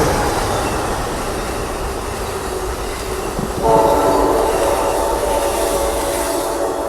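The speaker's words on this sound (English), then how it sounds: "here comes the Starlight at the Oakland Coliseum station." Amtrak Coast Starlight Train #14 rumbles loudly past the Oakland Coliseum station, and midway its P42DC locomotive sounds a long, steady horn blast over the rolling wheel noise.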